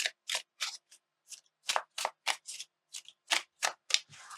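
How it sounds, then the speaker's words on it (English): Overhand shuffle of a mini 1909 Rider Waite tarot deck: a dozen quick papery riffling bursts in an irregular rhythm, close and fairly soft, ending in a brief sustained rustle. "this is my preferred method of shuffling, just an overhand"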